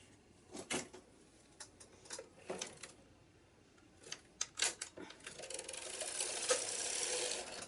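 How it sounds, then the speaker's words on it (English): A knitting machine carriage makes a free pass back across the needle bed: a few sharp mechanical clicks and rattles, then a steady, louder sliding whir near the end. "Take a free pass to return the carriage to the right."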